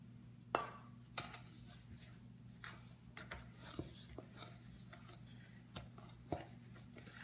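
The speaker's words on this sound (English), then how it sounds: "I'm gonna be using the wooden spoon to mix it." A wooden spoon mixes chocolate brownie batter in a bowl, giving faint, quiet scraping strokes and soft knocks that repeat irregularly over a low steady hum.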